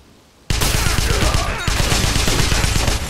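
Dense, loud volleys of rapid gunfire in Wolfenstein (2009), erupting suddenly and continuing as overlapping bursts with no pause.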